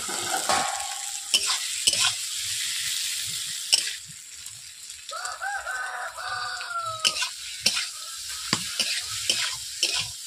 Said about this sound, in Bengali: এরপর আমি সবগুলোকে একসঙ্গে সবজিগুলো দিয়ে দিয়েছি, ভালোভাবে কষিয়ে নিচ্ছি 3 থেকে 4 মিনিট।